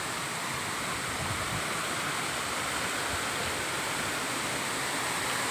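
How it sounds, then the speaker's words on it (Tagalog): A strong mountain stream on a solo hike, its water rushing in a loud, steady, unbroken roar that holds level from start to finish with no voices over it. "Ang lakas po ng agos ng tubig."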